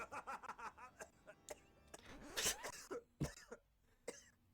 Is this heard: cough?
yes